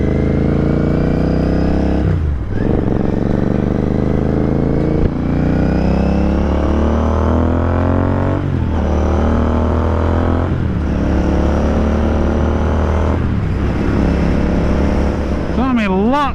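Continental GT 650 motorcycle riding on the road, a loud steady engine drone with clear tonal harmonics that climb through each gear and drop at several shifts, over constant wind rush.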